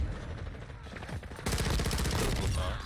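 Gunfire crackles during a major gunfight in a video game, a dense run of rapid shots that swells loud and continuous in the second half, with a voice faintly underneath.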